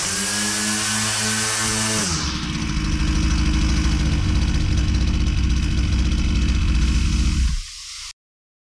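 Husqvarna 122C trimmer engine, cold from sitting, running loud and close, first at a buzzing idle that drops in pitch, then a rougher steady drone before it cuts out abruptly.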